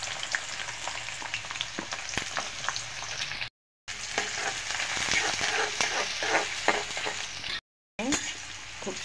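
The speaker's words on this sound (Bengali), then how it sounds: "দেখুন মশলাটা ভেজে নিচ্ছি" Chopped onion and spices frying in a pan for a pigeon meat bhuna, giving a steady close sizzle with scattered stirring clicks and scrapes, broken by two brief silent gaps.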